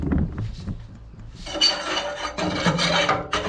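Metal blade of an old garden hoe scraping ash and buildup out of a fan-assisted biomass multi-fuel burner, a dry rasping scrape on metal and wood residue in repeated strokes, close by.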